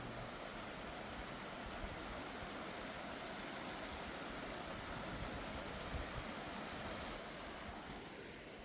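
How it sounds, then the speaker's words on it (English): A small trickle of water spills over Baby Sister Falls at Great Falls, Maryland, a steady soft rushing hiss that holds even and unbroken from start to finish with no voices. "This one goes over Baby Sister Falls, which actually does have a little water flowing."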